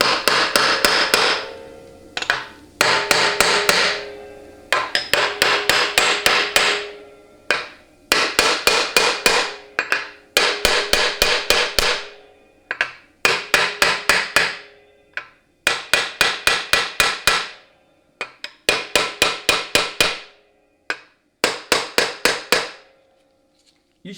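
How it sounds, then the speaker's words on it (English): Hammer driving a brass punch to tap a part onto a 700R4 transmission case, heard as bursts of rapid, sharp, close metallic taps separated by short pauses. "I use a brass punch and a hammer to start tapping it on."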